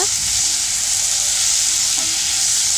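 Tomato sautéing in a pan for a raw jackfruit chukka curry gives a steady, loud, broadband sizzle and frying hiss throughout, with faint stirring knocks underneath.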